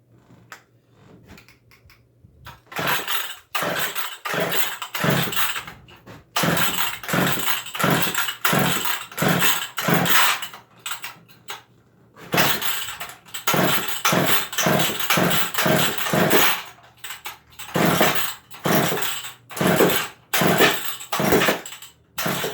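A McCulloch 1010a chainsaw repeatedly catches and roars briefly before dying out, its loud, raspy engine bursts broken by short gaps over about twenty seconds, close to the listener.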